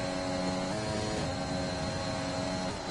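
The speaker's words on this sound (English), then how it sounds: "going down to gear 7 just to have a different sound of the engine here" A steady, droning Formula 1 race car engine from the F1 2021 racing game, a continuous high-revving tone held loud and unbroken throughout.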